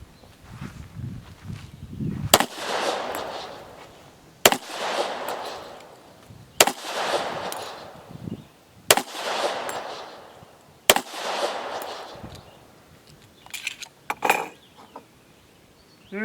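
Five .45 ACP pistol shots fired with Bullseye powder handloads, sharp loud reports spaced about two seconds apart, each followed by a ringing decay, then a few lighter clicks at the end.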